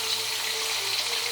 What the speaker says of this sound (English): Now I'm frying the cauliflower